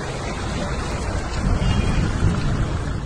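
Heavy rain pours down during a storm, a dense continuous hiss with a deep low rumble that swells midway like thunder, loud and with no voices.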